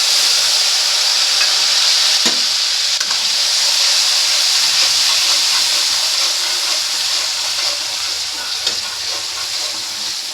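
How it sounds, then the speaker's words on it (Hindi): Cumin, asafoetida and masala spice powder sizzling in hot oil in a pan, a loud, dense, continuous frying hiss lasting throughout, with one faint clink partway through and no talking. "तो मसाला मैंने डाल दिया है इसमें, थोड़ा मसाला भुज जाएगा"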